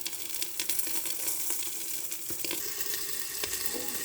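Prawn paturi frying in a covered pan gives a steady, moderately faint sizzle with scattered small pops and crackles throughout, with no voices.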